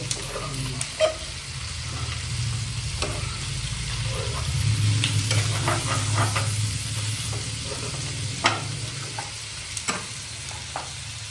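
Local meat frying in a pan while being stirred, a continuous close sizzle broken by repeated scraping and clacking strokes of a spoon against the pan throughout.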